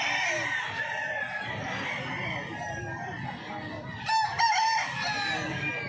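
Chickens and roosters at a Filipino poultry stall cluck and crow in a busy market, with several birds calling over one another and a clear rooster crow near the end.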